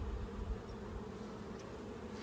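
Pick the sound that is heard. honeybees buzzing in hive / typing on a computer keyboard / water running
honeybees buzzing in hive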